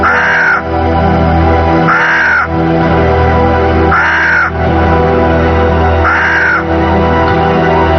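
A crow cawing four times at evenly spaced intervals, loud and close, over a steady low background drone.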